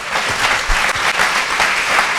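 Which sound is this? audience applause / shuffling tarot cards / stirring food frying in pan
audience applause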